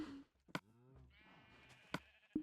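Sheep bleat in a farm setting, one wavering call carrying several harmonics, with sharp clicks and a second shorter bleat near the end, fairly close and loud.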